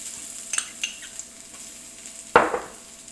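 Garlic dropped into hot oil in a pan, a brief clatter and stirring followed by a sudden sharp sizzle that fades out, close and without talk.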